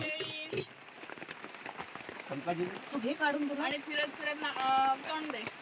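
Heavy rain patters steadily at a riverside during an outdoor meal, a moderate wash of drops under frequent chatter and voices of several people talking throughout.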